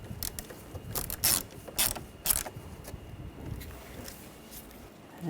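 A ratchet wrench snugs bolts down on ignition coils of a 2013-2019 Ford Escape, giving a few quick bursts of close clicking with pauses between, no talking.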